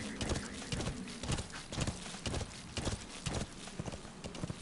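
A horse in Metal Gear Solid 5: The Phantom Pain clops along in a steady rhythmic gait, hooves thudding close and clear over a constant background bed of game sound.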